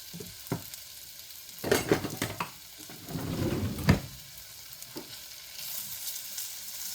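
Potatoes hitting a hot skillet and frying, with clattering bursts as they are tossed and stirred, then a steady close sizzle settling underneath.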